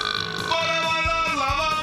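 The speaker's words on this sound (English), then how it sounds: "uncontrollable belching" A long, loud, gurgling belch that stretches on with a rough, croaking texture, close and alone.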